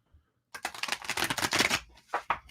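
A deck of playing cards is shuffled and spread by hand, making a quick riffling flutter that lasts about a second and a half, then two short slaps. The sound is close and clear, with no talking.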